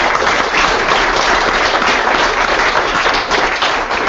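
Audience applause after a speaker shares a personal story at a seminar on methamphetamine treatment, loud dense clapping sustained evenly for several seconds with no voices over it.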